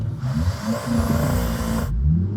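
Modified Volkswagen Golf R with a bigger turbo and louder exhaust doing a launch-control race start from 3,500 rpm, a loud close engine roar building steadily before cutting off abruptly near the end.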